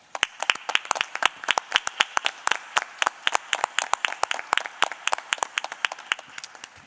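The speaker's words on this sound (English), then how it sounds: "I'd like to give you guys a round of applause." A small group clapping at a Board of Education meeting, a sparse, uneven patter of individual hand claps close by and continuing steadily throughout.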